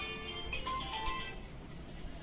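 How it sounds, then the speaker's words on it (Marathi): A mobile phone ringtone plays indoors at home, a quiet melodic tone pattern that is clearest in the first second and then fades into low background noise. "मम्मी कोणाचा फोन आहे बघाल?"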